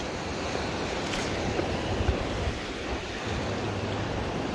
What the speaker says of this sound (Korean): 저기 하나 오는데, 파도가